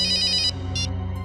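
A telephone rings with a loud electronic tone, one long burst followed by a shorter one after a brief gap, with a steady low hum underneath and no voices.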